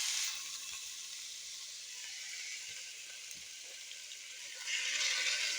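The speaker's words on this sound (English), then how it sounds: "So in the pan, I'm going to add my seasoned meat." Seasoned beef sizzles steadily in a hot pan while Creole-style carne con papas is cooked, a loud continuous frying hiss with faint stirring clicks, swelling brighter near the end.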